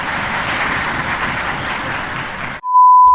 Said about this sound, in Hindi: अब चलो सब ताली बजाओ।